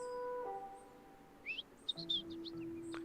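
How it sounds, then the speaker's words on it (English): Two small birds chirping outside an apartment window, a few short high chirps clustered in the middle and end, moderately close over a quiet background with a soft tonal hum. "Two birds chirp outside."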